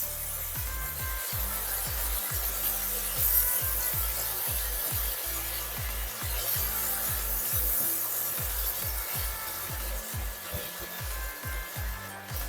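Apples with lemon or lime juice stirred in a pan for apple crumble, a spoon scraping and rubbing in quick repeated strokes, close and continuous with no talk.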